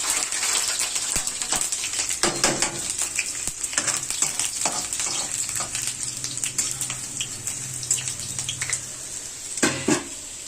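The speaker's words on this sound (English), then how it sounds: "Once the oil gets hot, you need to put garlic cloves." Garlic cloves frying in hot oil over a medium flame give a steady, close sizzle with crackling bursts and occasional stirring scrapes throughout, no voices.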